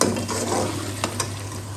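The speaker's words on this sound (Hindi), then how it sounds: "अभी मैं ऐड कर दूंगी थोड़ा सा ज़ीरा।" Cumin seeds dropped into hot oil give a brief close sizzle and crackle, with a couple of light utensil taps against the pan.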